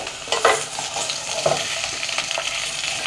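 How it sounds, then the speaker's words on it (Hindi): Potatoes for spicy aloo bhujia fry in hot oil while being stirred, with a steady sizzle broken by a few louder scraping stirs near the start and middle. "तो ये जो ऑयल हमारे पास है इसके अंदर हम ये आलू शामिल कर लेंगे।"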